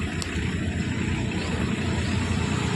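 A tractor passing on a road, a loud rumbling engine with a steady low drone that persists throughout, close by.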